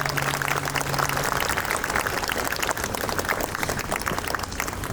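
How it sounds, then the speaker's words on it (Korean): Dense, steady applause from an outdoor festival audience fills the full stretch at even loudness, with a brief low hum near the start and no clear voice. "박수 한번 주실까요?"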